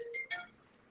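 A mobile phone ringtone chimes during a math lesson, two short bright electronic tones heard close and alone before fading into quiet.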